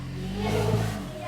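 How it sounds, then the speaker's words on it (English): A car engine revs briefly as the car is moved through deep snow during a heavy snowstorm, a short swelling roar that rises and falls, close by, with possible faint voices. "Your dad's gonna move the car."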